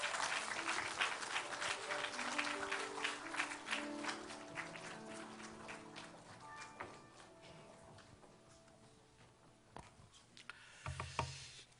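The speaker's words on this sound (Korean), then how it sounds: "우리 반갑게 박수로 환영하겠습니다." A church congregation applauds during a Sunday morning worship service, with sharp dense clapping at first that gradually thins and fades. Organ or keyboard tones sound beneath it, and a few louder claps and thumps come near the end.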